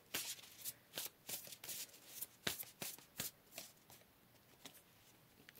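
Tarot cards are shuffled and pulled by hand, making a soft, close run of crisp riffling snaps and flicks in an uneven rhythm, quiet, with no one talking.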